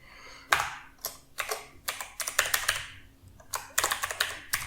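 Quick bursts of keystrokes on a computer keyboard, clustered in uneven runs with short pauses between them, close and fairly soft, with no talking.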